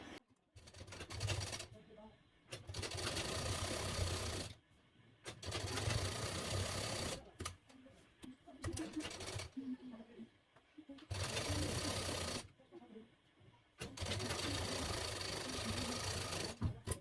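A sewing machine runs in several sustained bursts while a Bombay cut blouse is stitched, each run steady and close, with short pauses and a speaking voice between them.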